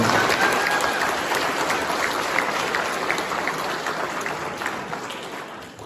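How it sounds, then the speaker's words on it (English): Hearty applause from a banquet audience, dense steady clapping that stays loud throughout and tapers slightly toward the end, with no voices over it. "can I have a huge round of applause for everybody who helps out with doing that?"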